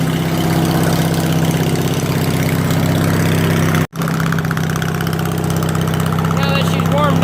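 A warmed-up riding mower engine idles steadily and loudly, with a continuous low drone and one brief dropout partway through; corn had earlier jammed its gearbox.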